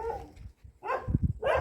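A dog at a hillside home in a landslide-prone area barks in a few sharp, close bursts, with whimpery, yipping tones between them.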